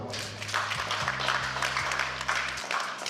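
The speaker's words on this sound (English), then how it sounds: "Please help me to clap for her." An audience claps for a keynote speaker, the founder of a Nigerian company, in a continuous round of applause over a low electronic background hum, fading near the end.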